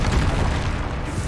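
A Bombarda spell explodes in Hogwarts Legacy as a loud, deep, sustained boom filling the whole short moment with dense rumbling noise.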